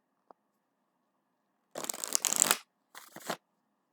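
Tarot cards being shuffled by hand during a love reading, two brisk riffling bursts close up, the first longer and the second shorter, after a tiny tap and a quiet pause, with no talking.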